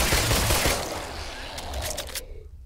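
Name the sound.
gunfire in the video game The Brookhaven Experiment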